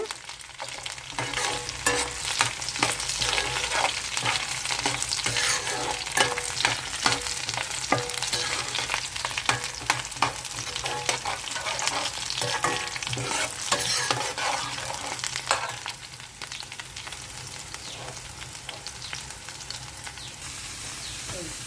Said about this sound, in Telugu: ఎల్లిపాయలు గుళ్ళు వేసుకుందాము అలాగే కరివేపాకు ఎల్లిపాయలు ఎర్రగా ఆగాలి